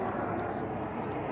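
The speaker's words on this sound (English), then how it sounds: "Oh, and we have a low flyby helicopter." Ambulance helicopter flying low overhead near Stockholm University, a loud, steady broadband rotor and engine roar filling the scene without a break.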